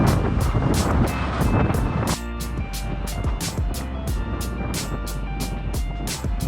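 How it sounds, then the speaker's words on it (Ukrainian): Strong wind roars steadily across the microphone, buffeting in gusts, with a low rumbling undertone throughout. "Дикий вітер."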